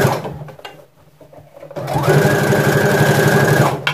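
A sewing machine stitches wide summer trousers with an elastic waistband, starting after a few soft handling clicks and then running loud and close in a fast, steady mechanical hum for about two seconds.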